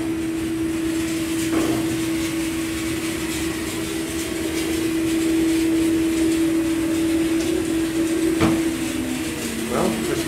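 An Advance Lifts hydraulic dock lift, a scenic elevator at Virginia Tech that is low on fluid, runs with a steady pump hum and hiss, broken by a few clunks, while a person talks now and then.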